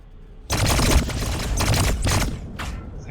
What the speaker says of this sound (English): They're shooting the scarab swarm